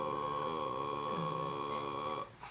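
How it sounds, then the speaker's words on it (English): A singer holds a vocal fry note, the lowest gritty register of the voice, as one steady, fairly quiet buzzing tone for about two seconds before it breaks off. "for a vocal fry note, it would sound like this"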